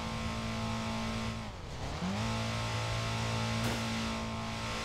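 A Herbie the Love Bug car in Trackmania 2 drives with a steady, buzzing engine tone that drops and then climbs again as it revs, alone and fairly close.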